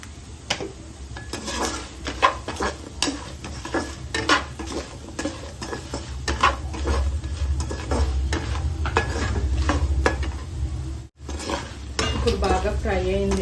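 Taro pieces frying in a pan, stirred hard with a metal spoon: dense clattering scrapes and knocks against the pan over a continuous low sizzle, close and loud, with a brief break near the end.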